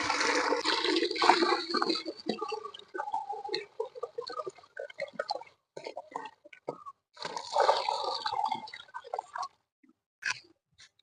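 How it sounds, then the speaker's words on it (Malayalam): Twenty cups of water gush into a container of biofertilizer mix for grow bags in two long pours separated by a pause, with small knocks and drips in between. "ഇനി നമുക്ക് ഇരുപത് കപ്പ് വെള്ളം ഒഴിക്കണം"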